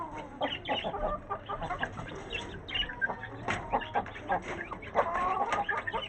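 A sluggish Aseel hen clucks in short irregular bursts close by, with soft scattered clucks and faint background noise among chicks at feeding time.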